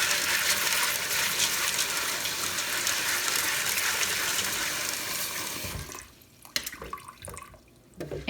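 Water runs steadily into a pot holding dry pinto beans being rinsed, a loud continuous gush that cuts off near the end, followed by a few sloshes and drips.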